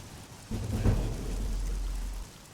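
Steady rain from the Oblivion Remastered video game, a soft continuous wash with a low rumble swelling in partway through and then dropping away, heard alone without talk.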